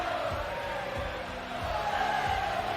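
A WWE 2K20 wrestling arena crowd roars in a steady, continuous wash of cheering that holds level throughout.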